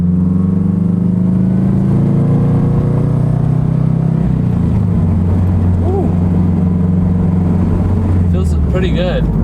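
A 2016 Scion FR-S, running a newly fitted clutch release bearing, differential and transmission, drives at an easy pace, with a steady engine drone and road rumble from inside the cabin and a short rise in pitch near the end.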